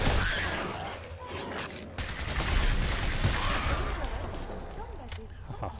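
A rapid burst of gunfire from a new gun in Fallout 4 rattles through about two seconds of steady, loud shooting, amid dense game background noise.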